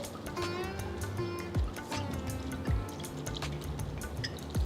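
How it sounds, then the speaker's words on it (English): Water poured over thin, flat poha in a kitchen bowl, with quick irregular drips and trickling splashes close up, fairly quiet and without talk. "So I'm just going to pour water and just wash it a bit."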